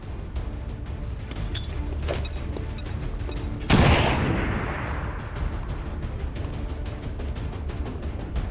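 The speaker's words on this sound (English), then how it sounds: "Grenade out!" Amid continuous rattling gunfire in the game XCOM 2, a grenade bursts with a loud, sudden blast whose roar decays over a second or two before the firing carries on.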